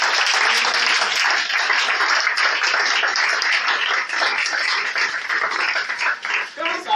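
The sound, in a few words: church congregation applauding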